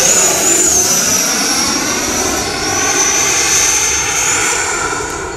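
An RC model jet on 8S power flies past with a loud, sustained turbine whine and roaring rush that swells slightly and fades toward the end, close and alone without voices.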